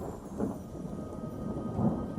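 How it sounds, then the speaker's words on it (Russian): Low rumbling thunder rolls under a steady wash of rain, with two deeper swells of rumble standing out. "Вмиг по всему полю взмыл ветер и буря."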